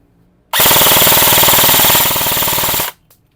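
Loud, close burst of an airsoft HK416 rifle (Delta D025S, E&C 111, upgraded to about 620 FPS) on full auto, a rapid even rattle of shots lasting over two seconds then stopping abruptly.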